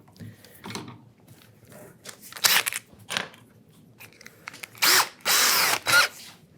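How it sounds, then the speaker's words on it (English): A power drill bores holes along a gauge line in wood, with several short whirring bursts of varying length separated by pauses and quieter handling noises, close and fairly loud. "lining up with my gauge line, drilling those holes"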